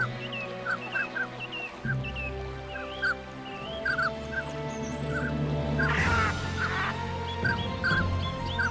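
Mandarin duck calls in the Siberian wild: short nasal whistles and squeaky honks repeating over a droning background, with a louder harsh burst midway.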